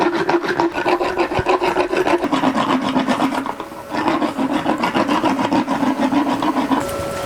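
A dental rasp files a horse's teeth in fast, rhythmic rasping strokes. The scraping is loud, close and continuous, with a brief dip midway, and no one speaks.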